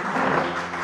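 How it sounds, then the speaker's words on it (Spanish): A short burst of applause from a church congregation, steady, dense clapping with no voices over it. "Un aplauso."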